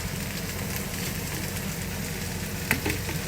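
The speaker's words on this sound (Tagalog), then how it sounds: "Ilalagay natin ang ating toyo." String beans cooking in a pan give off a steady, even sizzle as soy sauce goes in, with a couple of faint clinks near the end.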